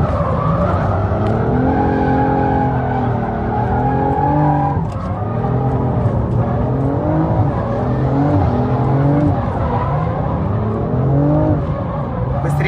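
A car drifts through close-set turns, its engine revving hard in steady rising and falling sweeps while the tires squeal and skid continuously, loud and near, with no speech over it.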